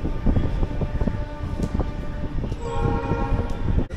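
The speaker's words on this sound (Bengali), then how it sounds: "9টা বেজে 35 আমাদের ট্রেন ছেড়ে দিল সাঁতরাগাছির 1 নম্বর প্ল্যাটফর্ম থেকে" A Puri-bound train pulling out of platform 1 at Santragachi station, a steady rumble of rolling carriages and clatter with a faint horn-like tone, close and continuous.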